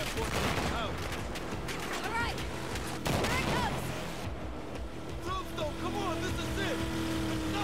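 Battlefield 4 combat near a warship on the Suez, with rapid bursts of gunfire and volleys crackling fairly quietly over a steady engine rumble while a voice speaks.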